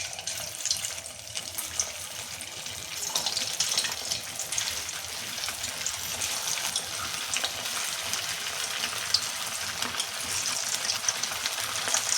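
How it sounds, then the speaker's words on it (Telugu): Veg manchurian balls fry in hot oil over a low flame, a steady dense crackling sizzle lasting throughout, fairly quiet and close, with no talking. "ఆయిల్ హీట్ అయ్యాక ఇందాక మనం ప్రిపేర్ చేసుకున్న బాల్స్ని ఇలా డ్రాప్ చేసుకుందాం"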